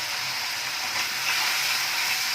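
Water splashed into hot momo sauce in a pan gives a steady, loud hiss of sizzling and frying that holds evenly throughout, with no voices.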